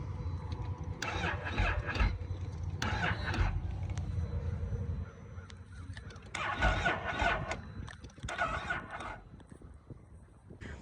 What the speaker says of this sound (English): It sounded like it started to hydro lock.